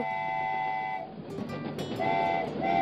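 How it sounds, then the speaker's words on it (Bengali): A toy train's whistle sounds as the train pulls into a hill station. The steady tooting tone comes twice: first a long, loud blast, then a short gap of rumbling, then two more whistle bursts over the noise of the moving train. "ঠিক তখনই দূর থেকে শীষ দিয়ে টয় ট্রেন ঢুকলো।"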